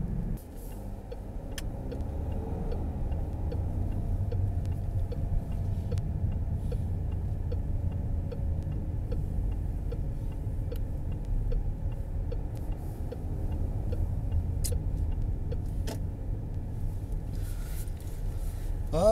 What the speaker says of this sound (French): Beaucoup de voitures là.